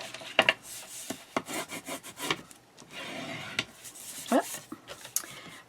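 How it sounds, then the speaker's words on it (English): Paper being burnished for a handmade display box and mini album: close, quiet rubbing and scraping strokes in an uneven rhythm, with a few light taps in between. "Burnish."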